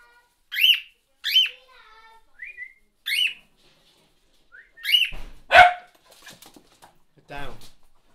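A dog barks a few sharp times from outside, mixed in with whistled bird calls and people talking indoors.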